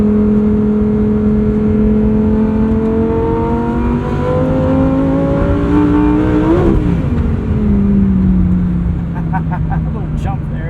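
A 2023 Lamborghini Huracan Tecnica engine heard from the cabin while driving, rising loudly through a gear, briefly dipping at a shift, then pulling again with a deep, smooth drone.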